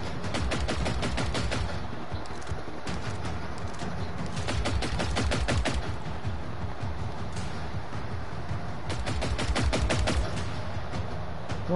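Rapid bursts of automatic gunfire in the video game Generation Zero, loud and close, repeating in rhythmic volleys with short pauses throughout, with no voices.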